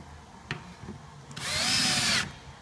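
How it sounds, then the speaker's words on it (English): A power drill drives screws into a wooden beehive panel: a couple of brief clicks and taps, then one loud, close burst of motor whir lasting just under a second. "These screws that I'm putting on the inside are going to be hidden."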